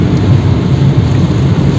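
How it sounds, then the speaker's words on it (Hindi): Steady heavy rain falling on wet streets during a Doha downpour, a dense, loud, continuous hiss and rumble with no voices. "इस वक्त थोड़ी सी बारिश में तेजी रही है।"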